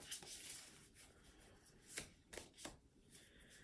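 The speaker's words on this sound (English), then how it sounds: "I'm just shuffling." Tarot cards are shuffled softly and close by, with a continuous papery riffle broken by several sharper slaps and swishes as the deck is cut and restacked, quiet overall with no talking.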